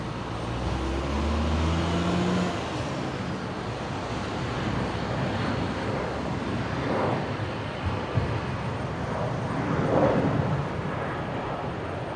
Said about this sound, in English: Here we go, Qantas 533 rolling service to Sydney this afternoon